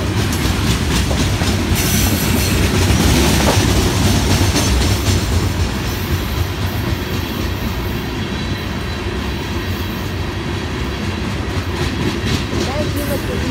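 An FEC freight train passes close by at Stuart, a loud, continuous rumble of rolling cars with rhythmic wheel clatter and faint squeals, and a voice briefly audible over it.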